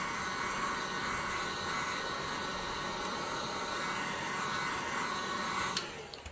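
A heat gun blows a steady, loud hiss of hot air onto a large resin sunflower bowl to soften it, running continuously and then easing off at the end.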